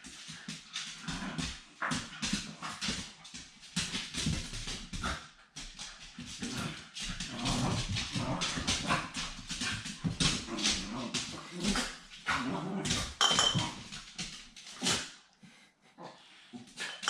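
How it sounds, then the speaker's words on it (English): Dogs whimper, yip and scuffle in the background of a home honey-extraction setup, with a busy stretch of whines and rough growling noises that rise and fall throughout. "The dogs decide to start fighting in the background right now."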